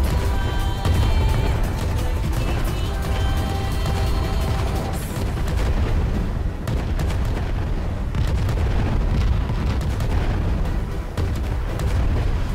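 Cannon fire and booming shell impacts in a sky-ship battle in the game Worlds Adrift, a continuous, dense barrage of heavy blasts and crashes with no voices.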